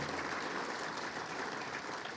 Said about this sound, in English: Can we have a nice big round of applause for all these folks?